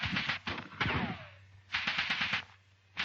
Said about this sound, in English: The covering section on Scrubby Hill opens rapid fire.